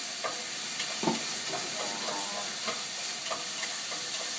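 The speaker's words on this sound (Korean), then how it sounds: "당근 가지도 호박처럼 이렇게 숨이 약간 죽을 정도로 해서 너무 설컹거리면 안 되니까 알맞게 볶아주세요" Carrots and other vegetables stir-fried in a pan for bibimbap, a steady close sizzle broken by scraping spatula strokes and light clinks at irregular intervals, with no voices.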